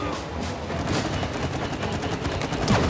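Rapid goo-gun fire from It Takes Two, a dense steady stream of wet, sputtering shots that runs continuously and loud throughout.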